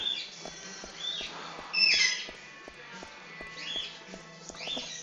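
Birds chirp and squawk outdoors in a scattered, irregular pattern, with brighter calls rising briefly near the middle over a steady faint background of ticking and low hum.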